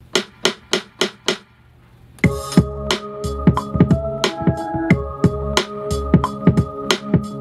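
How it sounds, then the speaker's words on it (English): A punchy snare hits a steady beat alone for a few strokes, then a fuller groove with a bassline and tonal layers joins in, loud and tight. "As you can hear, we just took that snare to a whole nother level."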